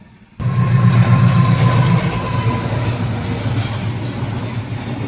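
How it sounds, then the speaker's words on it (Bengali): A train rolls past at a railway level crossing, a loud, steady rumble of wheels and cars starting abruptly after a brief quiet and continuing close by without letup, with a faint tonal whine running through it. "এখন রেলগেট পড়ে আছে কি করব ট্রেন ঢুকছে ঢুকবে মনে হয়"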